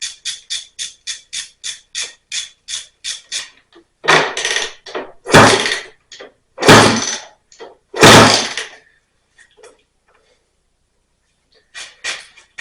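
Air is forced out of the open spark plug hole of a 1991 Honda CR250 two-stroke motocross engine as it is kicked over: a rapid series of sharp puffs, then several louder, longer bursts of hissing air, close up.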